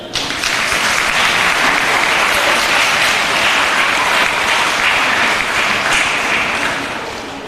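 A live audience gives sustained, loud applause for a client of FKPD, the dense clapping holding steady for several seconds before easing slightly at the end.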